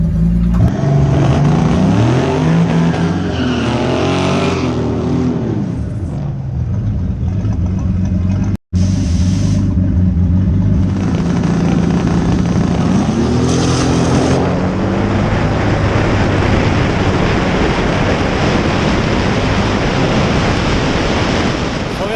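A stock 3-valve car on a 100-shot of nitrous races at night, its engine roaring and revving hard through gears, loud and sustained over heavy wind buffeting, with one brief dropout midway.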